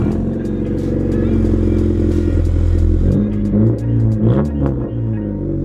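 Car engine on a warm start, close by: a deep, loud rumbling idle with a lumpy rhythm, then a shift as the revs change, with voices cheering faintly over it.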